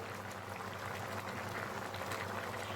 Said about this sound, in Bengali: এবার ঢেকে ঢেকে আমি আরও কিছু সময়ের জন্য এটাকে ফুটিয়ে নেব।